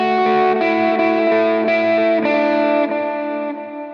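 Electric guitar lead riff from a song, played through distortion and chorus effects, a steady run of picked notes with crisp attacks ringing out alone and loud, sustaining into a fading final note.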